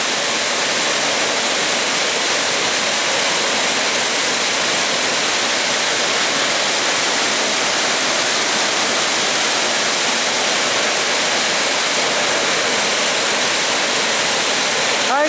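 Tad Gneuang waterfall roars in a loud, unbroken rush of falling water, dense and steady from start to finish with no voices heard over it.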